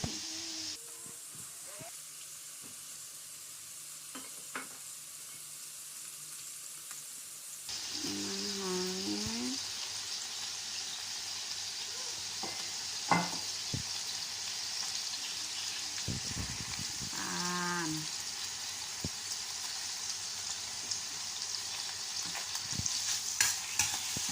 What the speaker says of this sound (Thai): เดี๋ยวผัดกุ้งให้สุกก่อนนะคะ